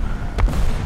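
A single artillery shot booms in the War Thunder air realistic battle, a brief sharp blast rising over a constant low rumble of engine noise, close and loud with no talking.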